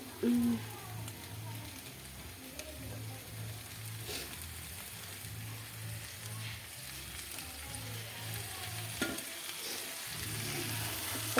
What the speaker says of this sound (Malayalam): ഇത് ജസ്റ്റ് ഒന്ന് മസാലയൊക്കെ ഒന്ന് ചിക്കനിലൊക്കെ ഒന്ന് കരണ്ട് വരാൻ വേണ്ടിയിട്ട് നമ്മൾ ജസ്റ്റ് ഒന്ന് ഇളക്കി കൊടുക്കണം